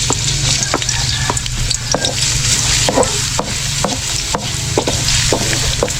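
Onion and garlic sauté in hot oil in a pan, a loud, continuous close sizzle broken by frequent sharp clicks and scrapes of a utensil stirring against the pan.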